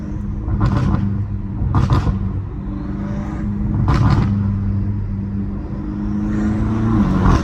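A BMW M5 Competition engine rumbles steadily up close, punctuated by a few sharp, crackling exhaust pops spaced a second or two apart.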